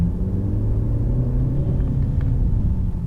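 A 2022 Mercedes-Benz C300d diesel accelerating, a loud, steady low engine rumble with road noise that holds throughout and has no voices over it.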